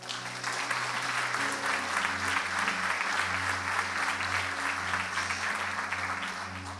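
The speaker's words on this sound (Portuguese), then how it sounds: "E aplaudo o Senhor." Congregation applause in church, a sustained, even roar of many hands clapping over held organ or keyboard chords, loud and continuous.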